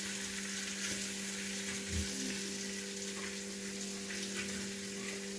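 Food warms back up in a pan with a steady, soft sizzle and crackle, quiet and continuous, over a faint constant hum, with no talking.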